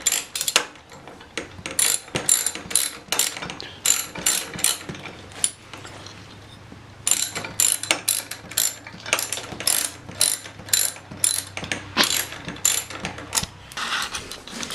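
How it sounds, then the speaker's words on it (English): Allen key ratcheting and clicking as head bolts are torqued down on a pit bike engine during a rebuild, a close, rapid run of sharp metallic clicks in bursts, alone with no talk. "You know you're dealing with quality when you can torque down head bolts with an Allen key."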